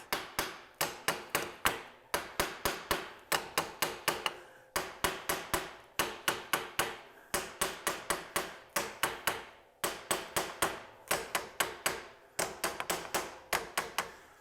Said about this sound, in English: We'll use our brass hammer here. Oh, got that. Give it a couple taps.